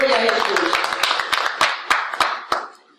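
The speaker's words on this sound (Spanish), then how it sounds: "Den un aplauso fuerte al Señor." A church congregation applauding at a Spanish-language service, a burst of many hands that thins into a few sharp, separate claps and fades out near the end.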